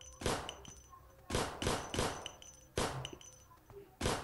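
Gunshots in the horror video game Endless Nightmare, fired as a headshot at a zombie: four sharp, loud cracks, the last three spaced about 1.4 seconds apart, each with a short decaying tail over a faint background hum.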